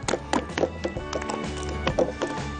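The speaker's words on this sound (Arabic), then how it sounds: "خبط فيها جامد كده عشان اطلع الهواء اللي فيها" Zalabia dough being slapped hard by hand in a bowl to force out air, a series of sharp, irregular wet slaps and thumps up close.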